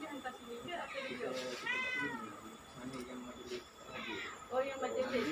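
Several cats meow repeatedly at a cat shelter, their cries overlapping amid busy background noise while people talk nearby.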